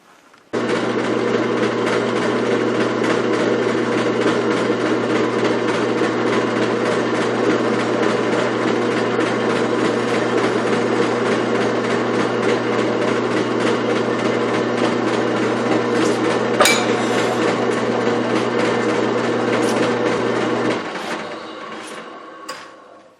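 A woodturning gouge cuts maker's mark rings into a wood goblet spinning on a lathe, a steady droning hum that runs for about twenty seconds and then stops.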